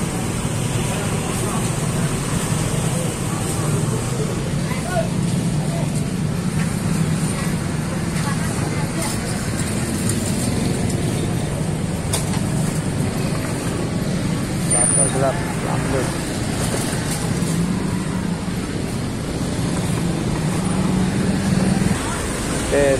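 Heavy night traffic crawling along a congested Jakarta road near a market, a steady low rumble of cars, buses and motorbikes with occasional horn-like tones, and voices talking over it throughout.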